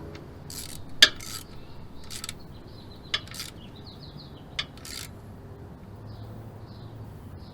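Ratchet wrench clicking as bolts on a 4x4 front differential cover are run down, short separate bursts of ratcheting with brief metallic clinks between them, close and fairly quiet in a calm garage.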